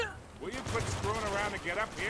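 Gunfire in Uncharted 2 Remastered on PS5, set in Nepal, with rapid shots from AK rifles crackling over a short stretch, partly masked by someone talking over it.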